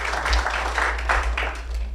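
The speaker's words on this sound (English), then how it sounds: "let's give them a big round of applause" Audience at a NASIG 2023 conference panel claps for the panelists, a brief patter of applause, moderately loud with a low hum beneath.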